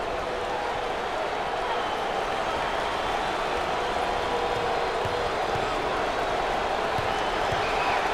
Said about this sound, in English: The student sections, the bands, and the crowd are always urging their team to victory like a sixth man.